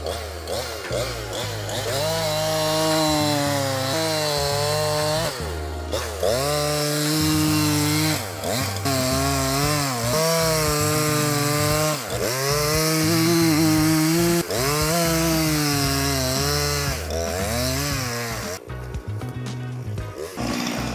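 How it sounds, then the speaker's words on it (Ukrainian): A brand-new Husqvarna 353 chainsaw cutting wood roars loudly close by, revving up and down in repeated surges throughout, with no talking. "Пилка в нас абсолютно нова з коробки. Ми вже її пиляємо."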